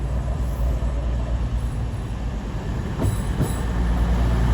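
Train at a London terminus platform rumbling steadily with a constant low roar, faint wheel squeal and light clatter throughout, close and loud with no talking.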